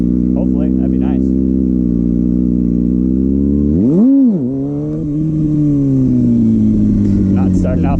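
Kawasaki Ninja ZX-6R motorcycle engine running steadily close by during wheelie practice, with a sharp rev swell and dip around the middle before settling back to a steady drone.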